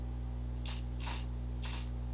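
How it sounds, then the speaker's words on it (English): JMSolution makeup setting spray hissing out in three short bursts, the second longest, each a fine airy spritz over a steady low electrical hum, with no talking. "I just wanted to kind of use it as like a makeup setting spray"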